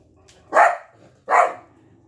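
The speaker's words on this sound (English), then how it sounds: "The dog is not going to quit." A dog barks twice, two close and loud single barks spaced under a second apart, over a quiet background with no talking.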